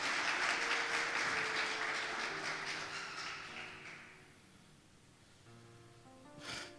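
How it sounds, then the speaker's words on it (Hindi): A church congregation claps in a dense, lively burst that thins and fades over several seconds, leaving a quiet tail with a brief rise of noise at the end. "जोरदार तालियां खुदावंद यीशु मसीह के लिए।"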